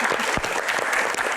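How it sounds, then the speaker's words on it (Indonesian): A burst of loud, dense applause from a crowd, many hands clapping together for a brief moment. "tepuk tangan dong"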